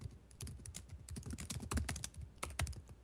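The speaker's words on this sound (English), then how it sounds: "I'm just typing into Google real quick to make sure I remember this right" Fingers type rapidly on a computer keyboard in a quick, uneven patter of close clicks and clacks with no talking.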